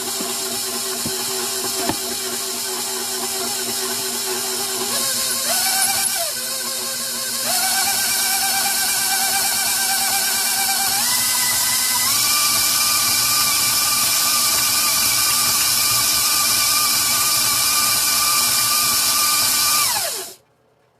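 An electric mixer beats powdered sugar icing for a carrot cake, a loud whining motor hum that steps up in speed several times before switching off abruptly at the end.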